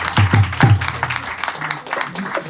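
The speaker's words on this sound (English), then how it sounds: "Let's give a bigger round of applause to" Applause at a Hare Krishna gathering, a few sharp claps up close followed by scattered clapping from the audience that tails off, with talk mixed in.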